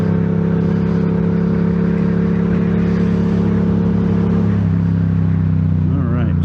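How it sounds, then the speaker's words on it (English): A loud Yamaha motorcycle with an aftermarket exhaust pipe revs and pulls hard nearby, the engine tone steady then shifting as it accelerates, with a voice talking over the roar. "That's got to be an aftermarket pipe."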